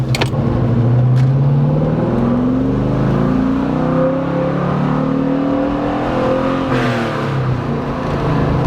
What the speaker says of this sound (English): gonna be a wind test to see if I can actually talk and you guys can hear me with my windows open.